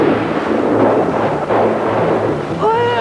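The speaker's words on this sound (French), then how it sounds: "Le tonnerre! C'est une tempête." Rumbling thunder in a storm from a French children's animation about pirates, a continuous loud low roll lasting the whole moment, with a faint sweeping tone near the end.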